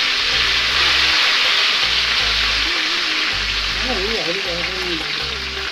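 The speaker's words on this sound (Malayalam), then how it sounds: "ഇനി ഇതിലോട്ട് നമ്മൾ പിഴിഞ്ഞെടുത്ത പുളിവെള്ളം ഒഴിച്ചെടുക്കാം" Squeezed tamarind water hits a pan of fried onions, setting off a loud, steady sizzle that keeps hissing the whole time, with a faint rhythmic rumble underneath and brief tonal whines near the end.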